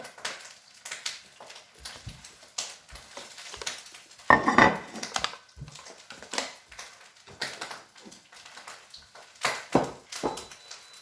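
A plate handled in a home kitchen during cooking, with clinks and knocks of crockery and cutlery, one louder clatter in the middle among scattered light taps.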